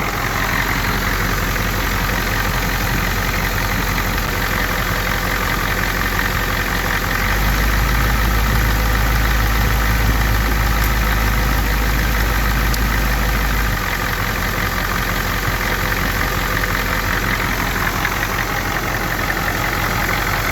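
A 1990 Ford F-250 engine idles loud and close with a steady low rumble and even mechanical chatter, deepening briefly in the middle before settling back to the same smooth run.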